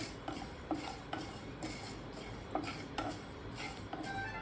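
Jaljeera spices dry-roast in a pan with quiet scattered stirring scrapes and light ticks against the metal, faint and close, with no voices.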